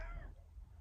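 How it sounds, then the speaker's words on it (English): A house cat meows once, a short, faint, rising cry at the very start, followed by quiet room tone. "Oh, that's my cat, Charlie."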